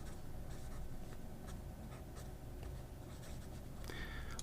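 A thick, wet medium-nib fountain pen glides across a Tomoe River alternative paper with only a hint of feedback, giving a soft, steady scratching that runs close and continuous for several seconds, with no voices.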